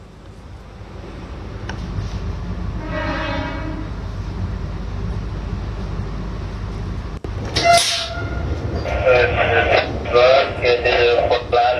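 A Vande Bharat express train runs past on Indian Railways track, a loud continuous rumble of wheels and carriages with a horn sounding near the start, followed by rattling and clatter as it passes close by.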